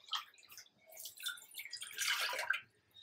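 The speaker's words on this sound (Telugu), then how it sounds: "వాటర్ పోసుకుందాం." Water poured from a glass into a cooking pot for a cauliflower dish, a quiet close trickling and splashing in short bursts that swell into a fuller pour near the end, with no voices.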